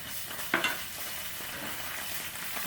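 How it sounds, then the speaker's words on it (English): Red curry paste sizzling as it fries in hot oil in a pan over low heat, a steady close hiss with a brief stirring scrape, and no one talking. "All right, so we have our oil here in the pan. It's nice and hot. Over a low heat, we're gonna introduce our curry paste, right?"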